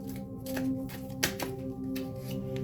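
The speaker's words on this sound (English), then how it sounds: "Let me shuffle some more." A deck of tarot cards is shuffled by hand in soft riffles and taps, with one sharper snap midway, close and fairly quiet with no talk.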